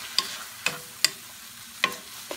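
Cumin, paprika, salt and preserved lemon fry in a pan for a seafood pastilla, with a steady low sizzle broken by four or five sharp utensil clicks against the pan.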